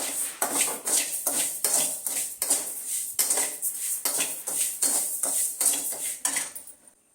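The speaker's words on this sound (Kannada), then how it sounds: "ಮೊದಲಿಗೆ ನಾನಿಲ್ಲಿ ನುಚ್ಚನ್ನ ಡ್ರೈ ರೋಸ್ಟ್ ಮಾಡ್ಕೊತಾ ಇದ್ದೀನಿ" Broken rice is dry roasted in a pan and stirred with a metal utensil, making rapid, rhythmic scraping and clinking strokes close up. The strokes continue for several seconds and then stop. No one speaks.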